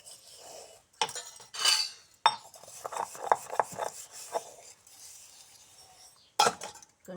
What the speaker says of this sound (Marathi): एवढं घेते पटकीने भांडे घासून.